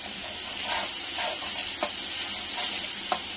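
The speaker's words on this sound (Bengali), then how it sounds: "মশলাটা ভালো মতো কষিয়ে নিই" Spice masala for a boal fish curry sautés in oil with a steady hiss and sizzle, punctuated by a few brief stirring scrapes and clicks.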